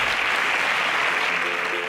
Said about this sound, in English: a round of applause for Blossom as she exits the stage